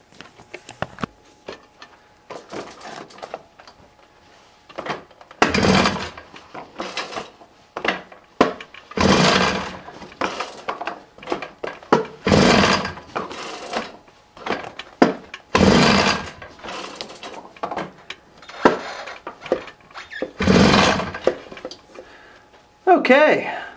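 An old moped is kicked over several times for a compression test, giving repeated loud, rough chuffing bursts separated by short quieter gaps.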